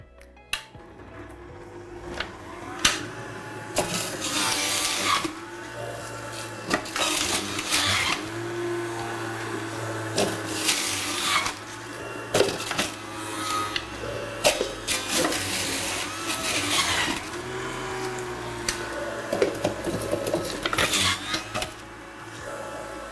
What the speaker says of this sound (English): I will be putting vegetables through the juicer first